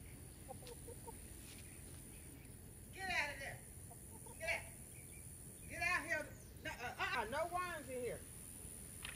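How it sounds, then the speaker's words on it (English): Several chickens cluck and call in short bursts over a hissy outdoor background, growing busier toward the end. "I'm about to put these chickens back in the coop"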